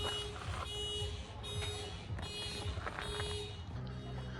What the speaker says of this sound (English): there's car alarms going off